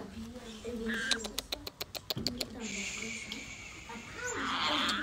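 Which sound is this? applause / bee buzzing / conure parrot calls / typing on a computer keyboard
conure parrot calls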